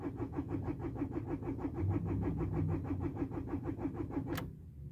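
A 2000 Renault Laguna engine cranking without catching, the starter's steady rhythmic churning going on for several seconds before stopping with a sharp click, close by with no talk.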